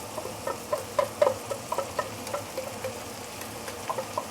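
Washed rice tossed into a wok with mustard greens, frying with a moderate sizzle and a string of light, irregular scraping and clicking stirs, fairly close.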